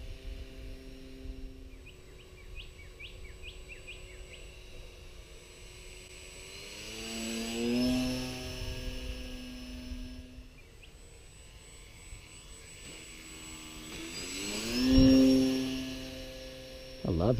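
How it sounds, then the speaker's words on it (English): A light Storch/Cub aircraft doing a stall takeoff: a thin engine drone rises and falls as it passes twice, fairly faint and distant, with voices at times. "Let's try a stall takeoff."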